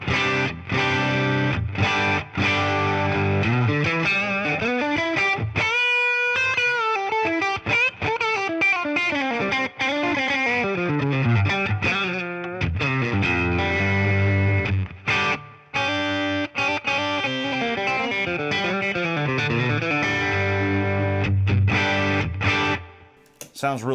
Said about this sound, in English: now here's the Prestige going into that blues breaker